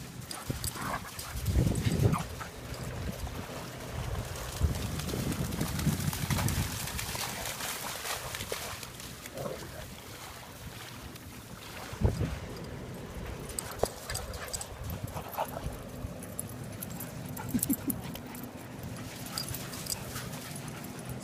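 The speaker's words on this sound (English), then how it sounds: "All of the Aussie Shepherds." Australian Shepherds out on a morning group dog walk on a sunny day, giving a few short yelps and whimpers in bursts against steady outdoor background noise.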